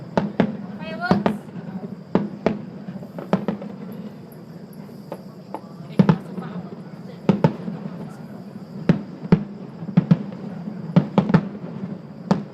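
Fireworks exploding at the Putrajaya International Fireworks show, a string of irregular sharp bangs and pops heard from a distance, some close together, under a steady crowd murmur with people talking nearby.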